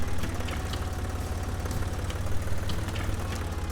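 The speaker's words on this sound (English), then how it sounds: "It's bogging the tractor down too much." A video game tractor engine drones low and steady while plowing, straining and bogging under load with a constant heavy rumble and no talk.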